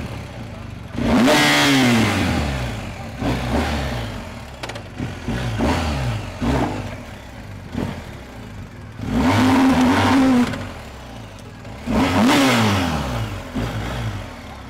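A nearby BMW 1250 motorcycle engine revs hard in repeated surges, rising and falling between bursts, with a brief lull between the louder throttle blasts.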